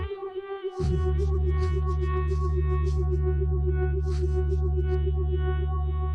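A steady, droning electronic beat through a phaser effect, with a slow wavering, swirling modulation, runs continuously after a brief quiet start, with faint bursts above it.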